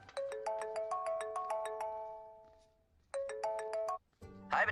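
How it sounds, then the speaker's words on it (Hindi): A phone ringtone signals an incoming call: a bright chiming melodic phrase rings twice, with a short pause between the rounds and a brief rustle after. "भैया, आपको किसी का फोन आ रहा है।"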